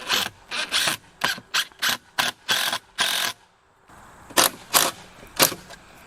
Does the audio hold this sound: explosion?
no